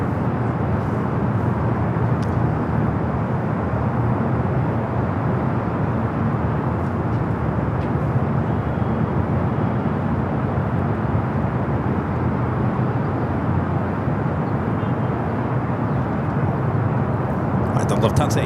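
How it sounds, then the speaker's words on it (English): A Lufthansa Airbus A350 taxis at Los Angeles airport, a steady broad jet engine rumble and whine held throughout at moderate distance, with faint background activity. "Lufthansa A350 making that turn, now heading to Tom at Bradley International."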